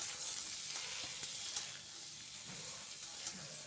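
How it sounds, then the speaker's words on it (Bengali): Broad beans frying in a pan together with winter vegetables such as aubergine and potato give a steady, moderate sizzle with faint crackles throughout, and no voice is heard. "আর এরপরে ছিমটাও অ্যাড করে দিলাম দিয়ে এবারে ছিমটাও ভেজে নেবো"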